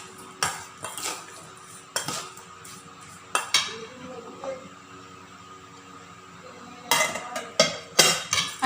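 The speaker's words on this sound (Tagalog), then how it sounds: "Hahaluin natin siya guys para yung lasa ay maghalo." A utensil stirs pepper and seasoning granules into a coconut milk tilapia stew in a metal pot, with bursts of sharp scraping clinks against the pot separated by quieter pauses.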